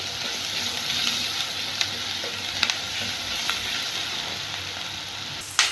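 Turmeric and ginger-garlic paste fry in a pan with a steady, close sizzle, and a few sharp clicks of stirring break through the hiss.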